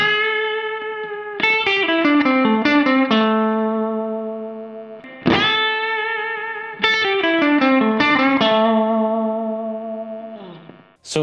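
Electric guitar lick with string bends, played two times through an effects unit with light distortion and chorus; sustained, bending notes ring loud and alone, with a decaying tail and a sharp pick attack at the end.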